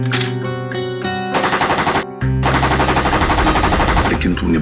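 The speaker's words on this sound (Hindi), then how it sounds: "इस AK-47 की आवाज से कोई ना कोई आएगा।" An AK-47 assault rifle fires rapid automatic bursts, loud and close. The bursts crackle almost continuously over a dramatic background score, with a short break in the middle.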